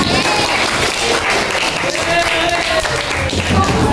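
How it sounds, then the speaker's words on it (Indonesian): A class of seventh-grade students claps in unison, producing dense, steady hand-clapping throughout with voices mixed in, close and fairly loud. "Tepuk tangan."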